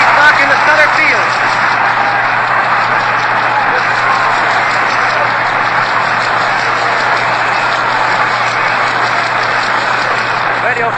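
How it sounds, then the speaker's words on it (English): Thunderous crowd applause at the Polo Grounds during a Giants–Yankees World Series game, a dense, steady roar of clapping that holds loud and unbroken throughout, with a thin broadcast-era tone. "we will stop and let our engineers allow you to hear the applause and the thunderous applause"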